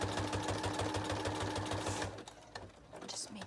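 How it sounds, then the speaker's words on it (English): A small Brother sewing machine stitches through a composition book, a fast rhythmic mechanical chatter that runs for about two seconds, then stops, leaving quieter handling sounds. "on this little brother sewing machine."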